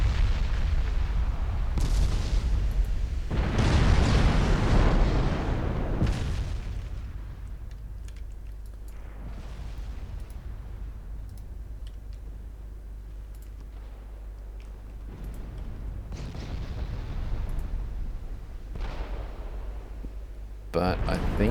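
Battleship main guns shelling a ship in Ultimate Admiral Dreadnoughts: heavy booming salvos land at irregular intervals over a constant low rumble, some blasts close and loud, others more muffled.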